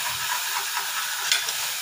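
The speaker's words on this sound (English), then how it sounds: "Fry it a little so the raw smell of the garlic and ginger" Garlic and ginger frying with mutton in a hot pan for a pepper fry, a steady close sizzle with scraping as the pieces are stirred, and no voices.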